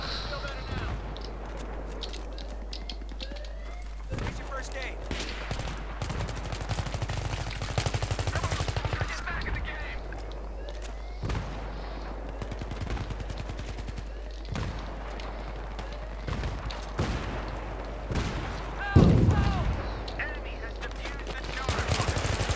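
Rapid bursts of automatic rifle fire in a Battlefield 3 rush match on the Epicenter map, repeated sharp cracks and rattling volleys mixed with distant explosions, while someone talks over the action.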